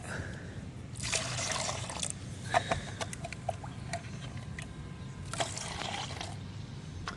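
Water poured from a container into an aloe vera fertilizer mix to dilute it, a soft close trickle with splashing bursts and drips over a steady low background.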